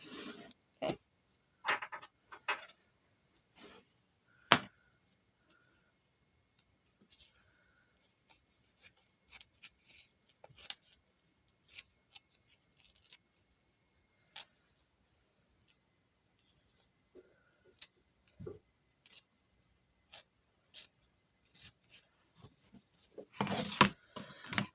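Curved scissors trimming threads on machine embroidery: sparse, faint snips and small rustles spread through near-silence, a few louder handling noises at the start and end.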